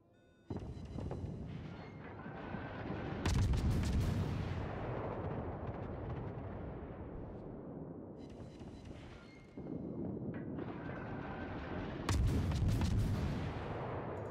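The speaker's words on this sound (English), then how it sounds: "I'm focusing fire on the one cruiser that is currently getting messed up beyond all belief" Heavy naval guns boom from warships in a battleship game, two big blasts several seconds apart, each followed by a long rumbling roar and a brief dip before the next salvo.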